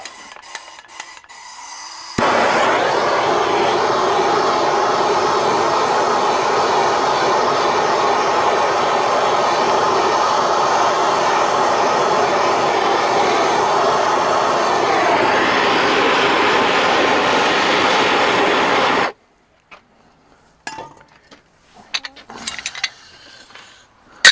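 A torch roars steadily and close for about seventeen seconds as it heats a metal shifter tube on a 1984 Freightliner truck, then cuts off abruptly, leaving faint clicks and handling noises.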